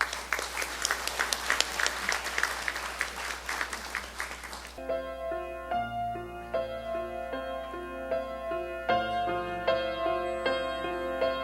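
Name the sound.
audience applause at a graduation ceremony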